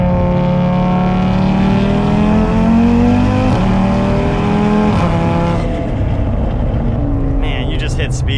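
A built big-turbo Audi RS3 making around 800 horsepower accelerates hard, its engine note climbing loudly through the gears with rising harmonics, then easing off near the end as a voice briefly chimes in.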